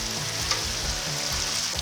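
Bacon frying on a 28-inch Blackstone Pro griddle, a close, continuous crackling sizzle with scattered pops and a few light scrapes of a utensil.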